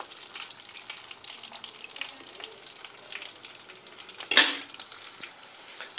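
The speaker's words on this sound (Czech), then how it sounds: "Teď vidíš, že se to smaží ještě víc." Homemade French fries fry in a pan, a steady close crackle of bubbling oil with fine spits throughout and a sharper, louder burst of sizzle near the end, with no talking.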